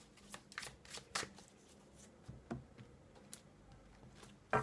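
Oracle cards being shuffled for a card reading, giving soft scattered riffles and taps with a few sharper flicks, quiet and close with no talking.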